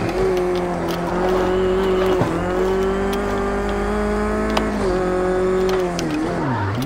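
A rallycross race car in the video game Project Cars 2 drones loudly and steadily at high revs, its engine tone dipping briefly around gear changes and falling away near the end, with no talk over it.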